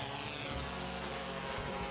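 A camera drone flying in a behind-the-scenes film shoot gives a steady, close propeller whine and buzz with no voices.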